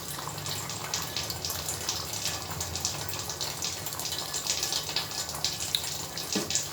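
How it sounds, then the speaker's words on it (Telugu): Water is poured into a pan of potato and tomato curry to thin the gravy. It makes a steady, continuous gushing splash at moderate volume with no talking. "నేను కొంచెం గ్రేవీ ఎక్కువ ఉండాలని కొంచెం ఎక్కువ పోసానండి వాటర్"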